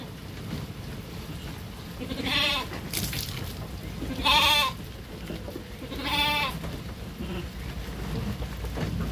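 Garol sheep for Qurbani sale on a farm bleat three times at roughly two-second intervals, each call clear and moderately near over a steady rumble of rain-like background noise.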